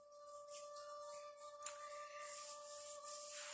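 Hands rub briskly along the outer and inner legs during a morning self-massage, a soft, steady close-up swishing of skin and fabric with one sharp brief slap partway through, over a faint constant hum.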